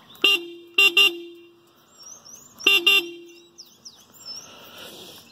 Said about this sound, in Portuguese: Buzininha.